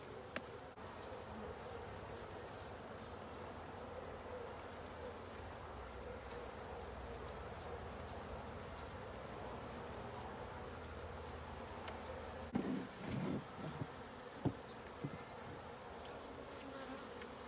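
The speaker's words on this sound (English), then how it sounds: "First, I'm going to brush these bees off." Steady, dense buzzing of many honey bees around a hive, continuous and close, with a few knocks and bumps near the end.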